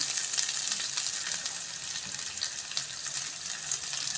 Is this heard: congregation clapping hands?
no